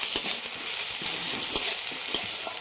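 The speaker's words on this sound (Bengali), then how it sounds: "আর দিয়ে দেবো এই যে কুচানো পেঁয়াজ। আমি এটা ভালোভাবে লাল করে একটু ভেজে দেবো।" Chopped onion fries in hot oil with a steady, bright sizzle, joined by a few soft stirring scrapes in the pan; no one speaks.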